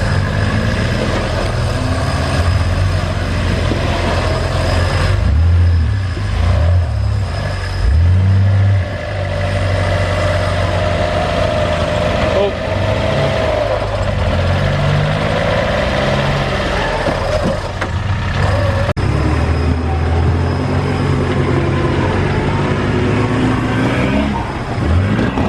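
Two 4WD trucks at a Reefton teams competition idle and rev their engines as they climb out of a muddy, chewed-up chasm track, with loud, close, continuous engine rumble and repeated throttle surges.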